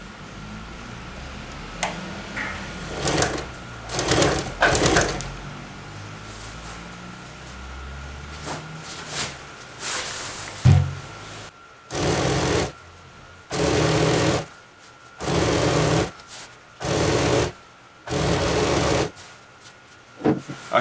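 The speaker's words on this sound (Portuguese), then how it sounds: "Vou estar fazendo a segunda costura." A sewing machine stitches the second seam of a jungle hammock in repeated whirring runs, some short at first and then several even bursts of about a second with pauses between, close and loud.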